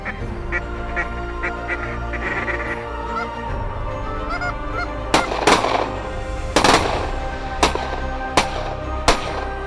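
Geese honk repeatedly at a waterfowl hunt, with the calls running steadily through the scene and several loud, sharp bangs cutting in during the second half.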